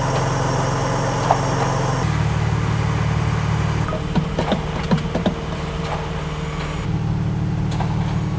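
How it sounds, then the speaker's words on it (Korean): A 20-year-old car with a transmission stuck in first gear idles steadily while the gearbox repeatedly tries and fails to shift up, giving faint irregular clunks over the engine hum, heard close with no talk. "기어가 못 올라가고 계속 실패하면서 지금 계속 시도하고 있는 상황이에요"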